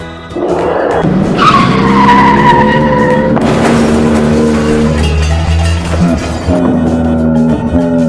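A toy RC racing car being pushed along, giving a loud squealing, skidding whine with rising and falling tones for several seconds, close up and without talk.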